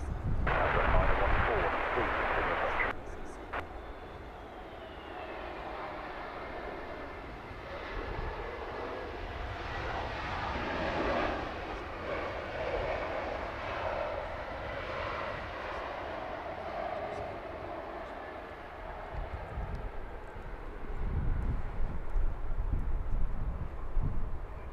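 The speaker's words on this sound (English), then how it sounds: "Yet another Scandinavian about to touch down here on the northern runway at Heathrow." A Scandinavian airliner inbound from Stockholm touches down on the northern runway at Heathrow, its engine roar steady and fairly loud throughout, swelling again near the end.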